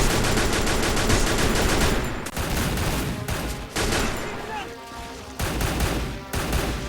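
Dense, continuous gunfire from a Free Fire battle royale match, near and loud, with sustained bursts broken by a few brief gaps and some faint voice-like sounds mixed in.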